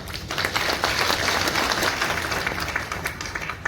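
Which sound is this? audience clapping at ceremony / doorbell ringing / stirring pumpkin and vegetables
audience clapping at ceremony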